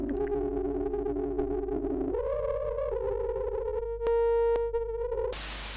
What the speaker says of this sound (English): here it's the sine modulate by the white noise